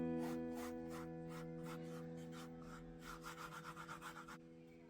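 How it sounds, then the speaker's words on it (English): Fingers rub art sand into the seams of model sidewalk blocks, giving a soft, close gritty scraping in repeated strokes that turn quicker and more rhythmic near the end, over a steady low hum, with no talking. "Sprinkle art, sand, and rub with fingers."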